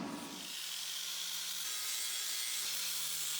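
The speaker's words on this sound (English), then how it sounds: "I've done one round of smoothing with the flab disc" A flap disc on an angle grinder smooths welds on a rusted Jeep frame under repair, giving a steady, loud abrasive hiss and whine that runs continuously through the whole stretch with no talking.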